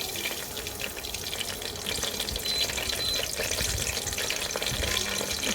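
Bay leaves dropped into hot ghee sizzle in a pan, a steady, soft, close crackling hiss that grows slightly fuller as it continues.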